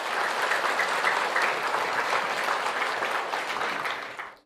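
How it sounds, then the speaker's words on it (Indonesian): Sustained audience applause at a motivational seminar, dense steady clapping throughout that fades out at the very end. "Tepuk tangan yang meriah"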